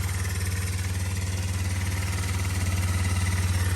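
A cheaply bought four-wheeler ATV engine idles just after startup, a close, steady low throbbing pulse with a slightly rattly edge and no talking.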